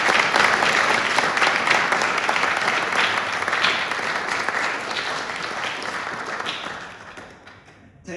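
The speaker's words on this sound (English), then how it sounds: "Ladies and gentlemen, please give a round of applause to Tess Lewis." Sustained audience applause fills a room at an anniversary dinner, dense and even for several seconds before fading out near the end.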